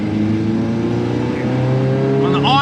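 Car engine pulling hard in second gear up a highway on-ramp, running on vegetable oil, a loud steady drone with rising harmonics that continues throughout, close and dominant.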